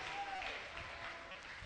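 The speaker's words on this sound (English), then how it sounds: "Clap your hands now." A church congregation claps together during a prophetic ministration service, a dense, steady wash of hand claps with voices mixed in throughout.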